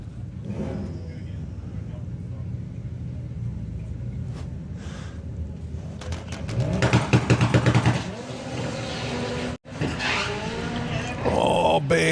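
Drag racing car at Santa Pod during Sportsman Nationals eliminations, launching and charging down the strip with a loud roaring engine surge mid-clip over steady crowd and track noise, while a commentator talks throughout.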